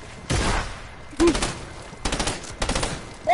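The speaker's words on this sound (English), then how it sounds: "just use the AK" AK rifle fire in a video game comes as several short, loud, close bursts of rapid shots separated by brief pauses.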